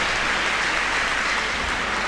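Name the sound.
audience applause for LDII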